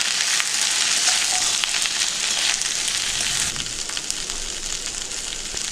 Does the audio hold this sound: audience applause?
no